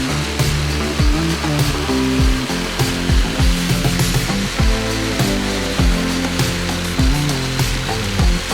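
A jigsaw cuts straight lines through wood pieces for a fingerboard ledge, its motor buzzing steadily and loudly with rhythmic blade chatter and shifting pitch as it bites into the workpiece, no talking.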